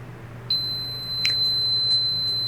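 A thin, high electronic beep sounds continuously from a Cricut heat press buzzer, steady and piercing over a low hum, with a few faint clicks.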